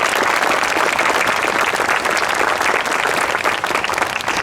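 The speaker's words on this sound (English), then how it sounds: "Please give these people a round of applause." Audience applauding at a high school groundbreaking ceremony, a dense, continuous burst of clapping held at an even, fairly loud level before easing slightly at the end.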